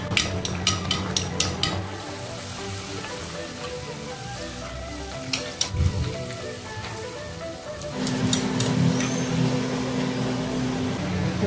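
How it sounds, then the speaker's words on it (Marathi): Rice-flour mung dal kachori deep-frying in hot oil, a steady dense bubbling and crackle with a rustling, rain-like hiss, plus a few sharper clinks and a brief stir partway through; no one speaks. "असे छान तळून घेणार आहे मी आता"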